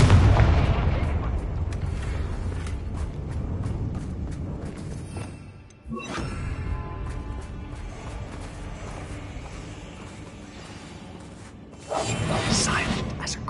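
A Confringo spell in Hogwarts Legacy bursts with loud booming blasts, a heavy explosion at the start and another sharp burst near the end, with whooshing debris between.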